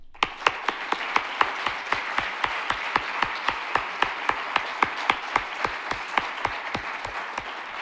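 An audience at a low-emissions solutions conference claps in steady, rhythmic unison, with sharp, evenly spaced beats over a soft bed of scattered clapping that holds for the whole stretch.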